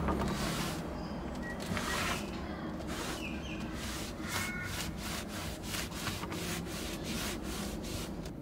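Mold stains are scrubbed off a surface in rapid back-and-forth strokes. The rubbing is close and fairly quiet, with a steady rhythm that turns into distinct repeated swipes toward the end.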